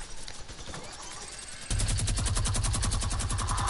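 Video game gunfire starts with scattered shots, then breaks into a loud, steady rapid-fire burst of evenly spaced cracks close up, with no talking.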